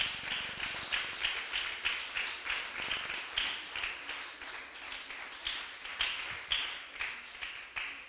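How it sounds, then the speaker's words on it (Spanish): A church congregation gives a strong round of applause to the Lord, dense and steady clapping in rhythmic waves across the whole stretch, with no voices on top. "Denle un fuerte aplauso al Señor, aleluya."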